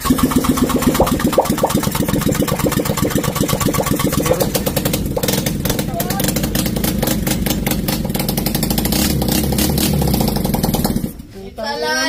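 A Honda Click/Vario 125 scooter engine, freshly upgraded with a 60mm block, fires up and runs with a loud, rapid putter up close, then cuts out near the end.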